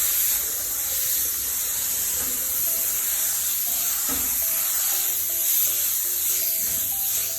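Spray gun laying a light first coat of paint on an Audi Quattro part, a constant close airy hiss with faint background tones and no talk.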